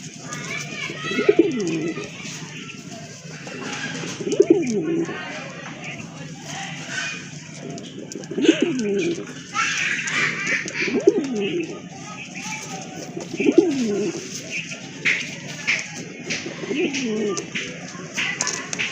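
Pigeons coo in a repeated, rhythmic pattern every few seconds, close by, over a murmur of background voices and other bird calls.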